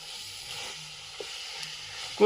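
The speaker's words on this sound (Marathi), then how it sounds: "मस्त अशी परतून घ्यायची भाजी" Chickpea greens stir-frying with chili and masala, a faint steady sizzle and hiss close by with a few soft stirring knocks and a brief louder clatter at the end.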